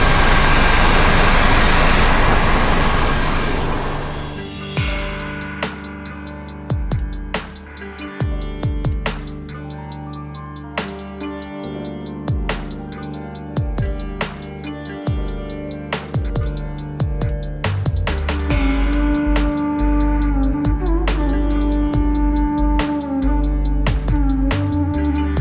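Loud, steady cabin noise inside a helicopter flying over the remote Himalayas, with a deep rotor rumble and engine drone and repeated thumps and rattles running throughout.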